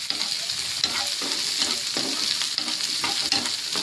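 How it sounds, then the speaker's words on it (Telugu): Chopped onions and garlic cloves frying in oil, a dense continuous sizzle with a spoon stirring through the pan in soft, regular scrapes, close and fairly loud. "ఆ ఉల్లిపాయ ముక్కల్ని కూడా మనం వేసి ఇటు మొత్తాన్ని దోరగా మనం వేపాలి"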